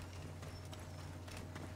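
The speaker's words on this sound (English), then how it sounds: "Donkeys." Donkey hooves clip-clopping in the video game Assassin's Creed Origins, a soft, steady patter of steps over a low constant hum, fairly faint and brief with no talk.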